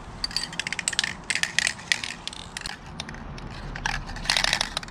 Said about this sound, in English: This one specifically says to shake for 1 minute, and then shake for 10 seconds after each minute of use